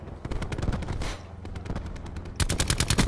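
Automatic gunfire rattles in rapid bursts during a Call of Duty Black Ops 4 match, loud and close, pausing briefly before a dense final volley.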